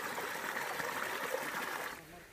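A small spring-fed stream flows in a village at the base of a hill fort, a steady soft trickle and rush of water that fades slightly at the end.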